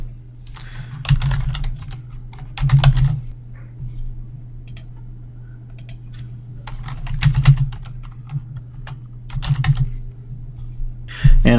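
Close computer keyboard typing, with bursts of clicking keystrokes separated by short pauses while sample data is entered, over a faint low steady hum and with no talking.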